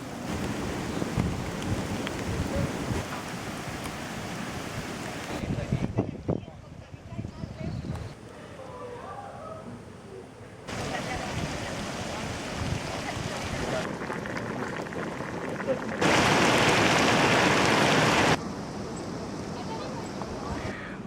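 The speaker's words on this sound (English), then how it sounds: "Starting to rain, so better make this quick." Rain falls near a steaming volcanic mud vent in humid Costa Rican forest, a broadband hiss that swells and drops in bursts, with wind buffeting the microphone and a voice speaking at times.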